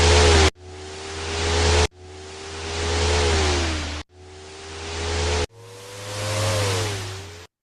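Car engine sound effect in a Scratch racing game: four looped revving passes, each swelling and dropping in pitch before cutting off abruptly, loud and alone with no talk.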